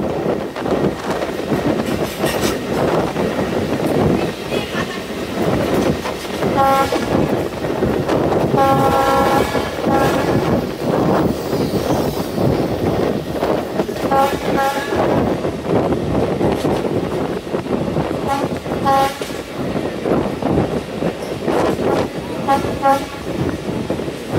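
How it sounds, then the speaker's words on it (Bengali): A Bhanga commuter train out of Dhaka runs loudly through a junction station, its constant wheel rumble and rattling carriages carrying several repeated blasts of the horn spaced through the passage. "জংশন রেল স্টেশন অতিক্রম করছে।"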